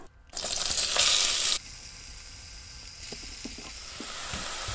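Onion hits melted butter and olive oil in a saucepan, setting off a loud burst of sizzling that quickly settles into a steady, softer frying hiss with faint crackles.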